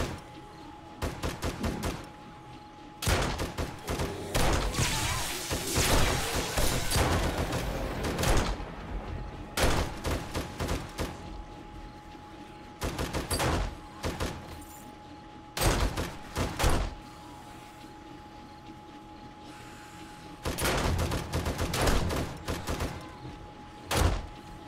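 Bursts of gunfire in the VR game 7 Days to Die during a horde night, coming in separate loud volleys with quieter gaps between them, some sharp and close.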